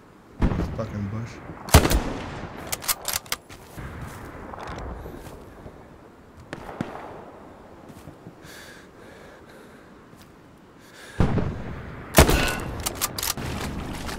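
Gunfire in the World War II shooter Hell Let Loose, with sharp close rifle shots and distant booming artillery in irregular bursts, and quieter stretches between them while players talk over it.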